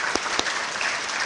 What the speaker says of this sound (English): Let's welcome with an applause.